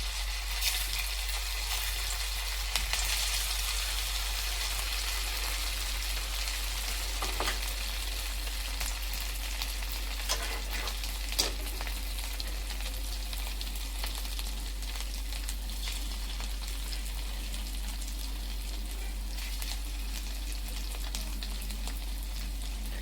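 Potato and pea nuggets deep frying in hot oil give a steady, close sizzling hiss that runs on without pause, with a few brief clinks and stirs rising above it.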